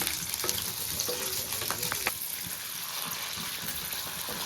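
Green chillies and seasoning frying in hot oil for a mango and coconut chutney, a steady close sizzle with a few light stirring clicks, continuous throughout.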